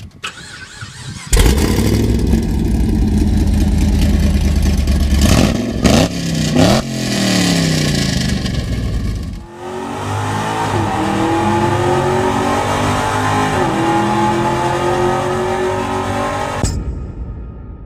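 A car starts and its loud exhaust revs hard in repeated surges, then settles into a sustained roaring idle before shutting off abruptly.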